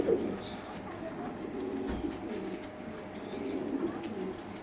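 Soft cooing of pied pigeons at a pigeon farm murmurs on and off against a steady low background rumble, fairly distant and quiet.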